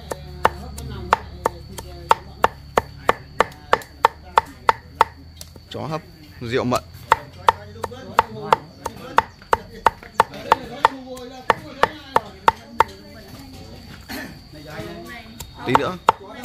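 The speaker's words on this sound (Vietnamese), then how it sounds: "Hai ông này băm rau mà ông nào cũng băm được." Two people chopping vegetables with knives on a cutting board for a Vietnamese feast, sharp rapid rhythmic thuds throughout, loud and close, with people talking over the chopping.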